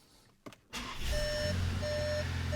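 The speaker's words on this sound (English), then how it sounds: "we can just start the vehicle as normal." A Volkswagen Tiguan engine cranks with a brief starter whir, then catches and settles into a steady idle while repeated electronic beeps chime over it.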